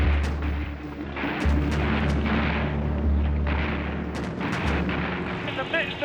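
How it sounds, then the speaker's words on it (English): Heavy WWII anti-aircraft fire over German troop barges near Antwerp, Belgium: a rapid series of deep booming bursts and sharp cracks, loud and close, over a continuous low rumble. "battered by heavy anti-aircraft fire"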